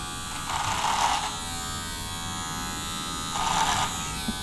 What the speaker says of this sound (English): So I'm going to do clipper over comb.